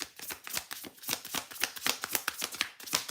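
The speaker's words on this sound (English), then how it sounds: "let's see what we get with an actual good little shuffle here" Tarot cards shuffled rapidly by hand in a steady riffling rhythm of quick crisp flutters, close and fairly quiet, with no voices.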